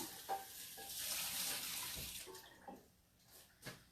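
Running water splashes steadily while goat cheese curds are washed in a kitchen, a broad wash of flow for about two seconds before thinning into scattered drips and light handling sounds, with no talking.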